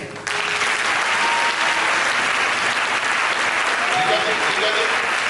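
A church congregation bursts into sustained, loud applause for the preacher, a dense wash of clapping that starts abruptly and holds steady without pause.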